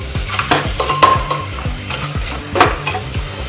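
Mutton for Kashmiri rogan josh frying in a pan, a loud close sizzle broken by rhythmic scraping and clanking of a spatula against metal, several strokes a second, with nobody speaking.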